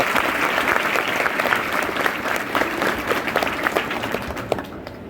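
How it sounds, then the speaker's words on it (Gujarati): A school audience at a girls' school programme claps together in sustained, dense applause, fairly close and even throughout, with no talk over it. "તમારી તાળીઓ વગર અમારા કાર્યક્રમની શરૂઆત નથી થતી"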